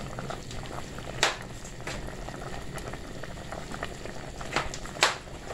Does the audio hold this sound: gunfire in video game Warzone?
no